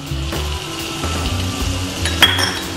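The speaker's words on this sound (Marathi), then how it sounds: "यामध्ये 1 छोटा लाल टोमॅटो पिकलेला घालायचा आहे" A small ripe red tomato goes into a pan of sizzling eggplant bharta, a steady fry under a few sharp clinks of a spoon against the pan.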